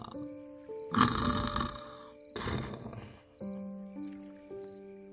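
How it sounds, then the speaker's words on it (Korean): Two loud, rough snores from a giant in a children's audiobook fairy tale rumble over a gentle golden harp melody, like a deep rasping breath in and out, followed by soft plucked notes. "하프가 아름다운 소리를 내자 거인은 드르렁 드르렁 코를 골았어요"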